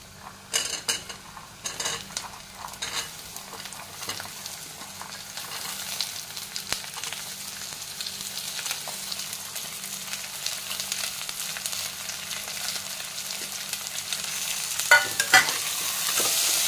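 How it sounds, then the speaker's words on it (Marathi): Onion and vegetables sauté in a pan for masala rice, a steady close sizzle broken by clattering stirs and scrapes of a utensil against the pan, busier at the start and near the end. "त्याला चांगलं परतून घ्या"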